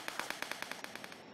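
Rapid, evenly spaced bursts of gunfire from the Wings.io browser plane game, about ten quick shots in just over a second, fairly faint and steady with no talk over them.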